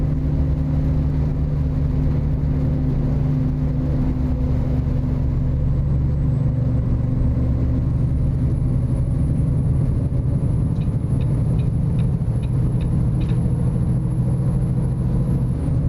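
Truck engine in American Truck Simulator running steadily in 8 high near maximum RPM at about 57 mph, a constant low droning rumble with a faint whine and a few light clicks late on, no talking.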